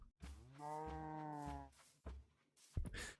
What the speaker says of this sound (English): Whenever I hear a cow make that weird moo noise